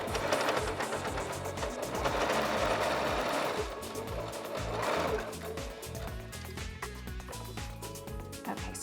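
A sewing machine stitches a short seam on fashion cuffs, running in a fast, close mechanical chatter that briefly eases and then picks up again.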